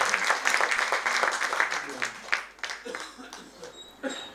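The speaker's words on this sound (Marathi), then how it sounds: "जोरदार टाळ्या चाहत्यांसाठी" Dense crowd applause at an award ceremony, loud and continuous for the first couple of seconds, then thinning into scattered claps and murmuring with a few louder individual claps near the end.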